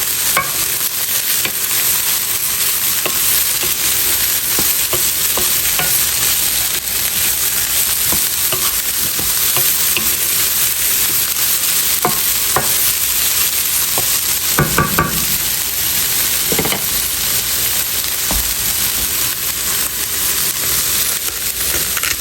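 Onion with yellow and red peppers stirs and sizzles steadily in a hot pan, a constant loud frying hiss with occasional scrapes and clinks of a utensil against the pan.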